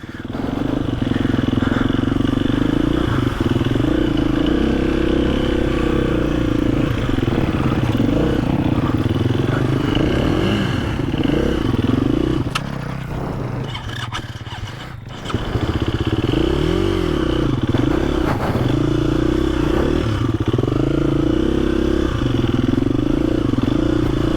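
Enduro motorcycle ridden off-road at a basic training session, its engine droning loud and steady with clattering and scraping over rough ground and a brief dip in power midway, continuous throughout.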